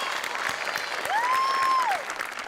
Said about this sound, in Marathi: स्वातीसाठी जोरदार टाळ्या.